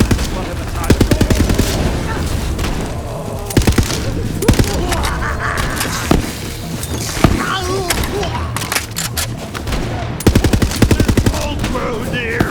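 Rapid bursts of automatic gunfire and single shots crackle repeatedly over a busy Borderlands 3 game soundscape, with a voice speaking between volleys.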